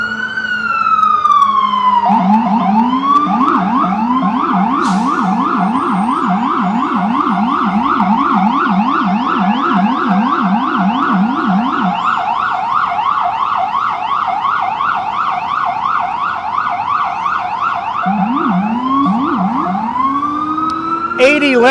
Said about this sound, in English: It would not be New York without sirens, because after all, New York, it's loud.